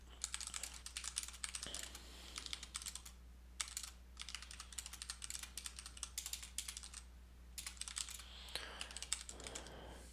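Quiet, rapid clicking of a computer keyboard as text is typed in quick bursts, separated by short pauses, with a faint steady hum underneath.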